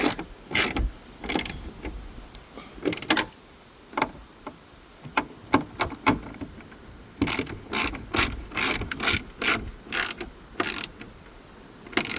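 A ratchet tightens a fitting back up during a vehicle accessory install, giving irregular runs of crisp metallic clicks with short pauses between strokes, close and fairly quiet.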